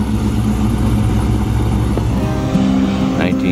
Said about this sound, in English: Little project car here coming through